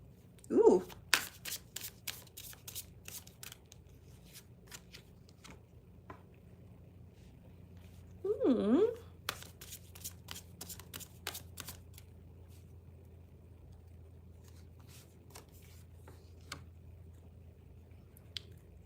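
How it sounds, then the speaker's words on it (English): Tarot cards are shuffled in quick riffling bursts, close and crisp, with a couple of longer riffles between them. A voice talks briefly at times, and a low hum runs underneath. "All right, PLR, I'm gonna pull cards for you."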